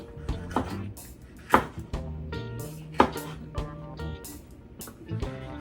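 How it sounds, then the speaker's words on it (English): Conch is chopped into chunky slices with a knife on a board, a string of uneven knocks and thuds, two louder strikes standing out, close, with faint kitchen clatter. "we're just going to chop these up"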